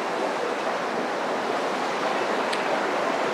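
Waterfall cascades at the Falls of Leny in Scotland pour in a steady, dense rushing roar, heard close and unbroken with no voices.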